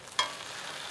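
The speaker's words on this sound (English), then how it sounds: "Butter in the fire pan," Bread soaked in an egg mixture spiced with nutmeg and cinnamon is laid into butter in a fire pan at a cold bush campsite, giving one short clink followed by a faint, steady sizzle.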